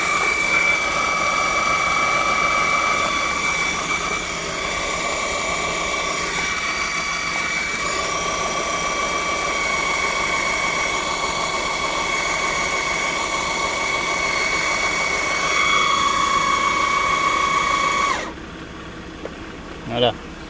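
VEVOR 5-ton electric car jack raising a car wheel, a loud steady motor whine with sustained tonal hum running continuously for about eighteen seconds before cutting off abruptly.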